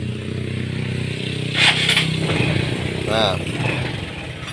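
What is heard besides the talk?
Honda Supra X 125 motorcycle electric starter starting engine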